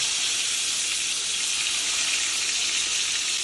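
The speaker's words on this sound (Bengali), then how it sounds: "তেলটা গরম হয়ে গেছে আর দেখতেই পাচ্ছেন আমি খুব কম তেল নিয়েছি এখানে আর বেগুন চারটে একটা করে ছেড়ে দিলাম" Eggplant slices sizzle steadily in a small amount of hot oil in a pan, a loud, dense, continuous frying hiss with no pauses.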